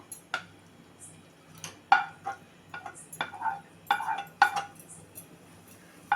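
Light clinks and taps of a utensil against a small metal pressure cooker as grated raw mango is added, scattered and irregular, with small scraping sounds in a quiet kitchen.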